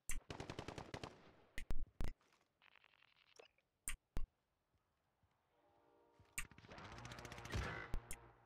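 Gunfire in a video game: quick rattling bursts of automatic fire and isolated sharp single shots separated by quiet pauses, ending in a denser, louder volley.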